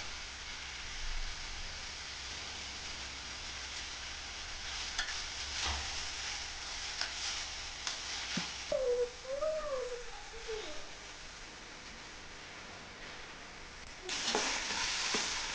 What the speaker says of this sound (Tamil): இது ஃபுல்லாத்தையும் அந்த எண்ணெயில் கொட்டி நல்லா வதக்கிடலாங்க